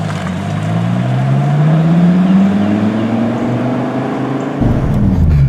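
A 2016 Dodge Viper ACR engine drones loud and close from inside the moving car, its pitch rising steadily as it pulls through a gear, then dropping abruptly near the end.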